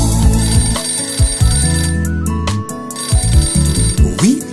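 A telephone rings loudly and continuously, a bright repeating electronic ring with warbling tones, alone and close with no voices.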